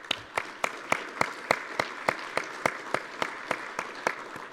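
An audience at a keynote claps in a steady, regular rhythm of about fifteen sharp, evenly spaced claps, loud and close, with no talk over it.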